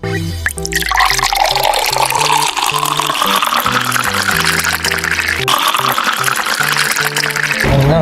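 Sprite soda pours into a pan of garlic butter shrimp, a steady liquid stream with dripping and sizzling over music, close and fairly loud throughout.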